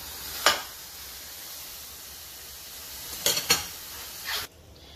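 Ground beef fries without oil in a hot pot, giving a faint steady sizzle broken by a few sharp clanks and scrapes of a utensil stirring against the pan; no voices are heard.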